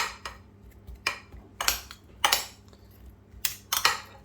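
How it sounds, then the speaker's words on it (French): A utensil scrapes and clinks against a bowl while stirring a potato mixture, with about half a dozen irregular bright strokes over quiet background. "on mélange un petit peu"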